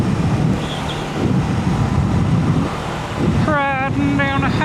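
Steady, loud wind buffeting rushes over a motorcycle on a highway, with brief rising whistling tones near the end.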